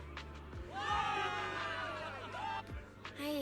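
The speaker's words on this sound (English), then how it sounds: "Cheers right down from the great crowd of soldiers." A great crowd of soldiers cheering in the video game Zenless Zone Zero, a sustained roar of overlapping shouts and whoops that swells and stays loud throughout, with voices rising above the mass.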